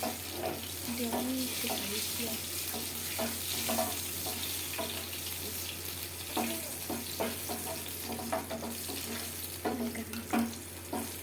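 Cashews frying in oil in a pan, a steady close sizzle with intermittent stirring and scraping clicks throughout.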